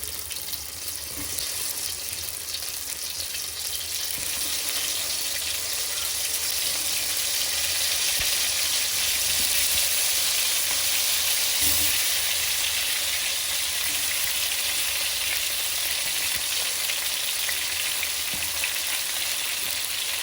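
Eggplant fries in hot oil in a pan, a loud, dense, continuous sizzle that holds steady for the whole stretch with a few faint low knocks.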